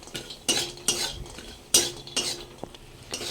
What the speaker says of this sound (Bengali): এই তেলের মধ্যে বড়িগুলো একটু হালকা করে ভেজে নেব